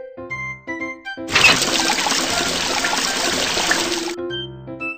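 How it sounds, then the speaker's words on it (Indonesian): Tap water gushes steadily for about three seconds in a mid-clip burst, loud and broadband, with light tonal music before and after. "Buka keran air."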